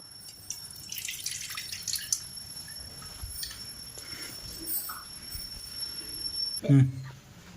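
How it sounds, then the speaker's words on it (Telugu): Tamarind water is poured into a bowl for Ugadi pachadi. A soft, trickling liquid pour runs close by at low volume, with a brief louder splash near the end and someone speaking. "మనం చింతపండు వాటర్ని ఇలా పోసుకోవాలండి"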